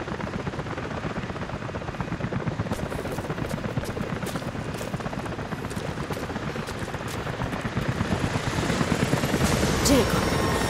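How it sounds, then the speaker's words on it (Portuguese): Helicopters approach in the Rise of the Tomb Raider video game, a steady loud rotor chop that swells toward the end, with game voices talking over it. "helicópteros indo em sua direção"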